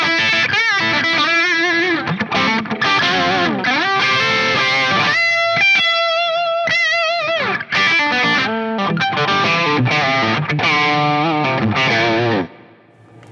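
Electric guitar played through a Buckaroo Engineering Bullwhip clean boost pedal into an edge-of-breakup amp, bridge pickup, giving a classic rock tone; loud, continuous chords and riffs with slight grit ring out alone before a sudden cutoff.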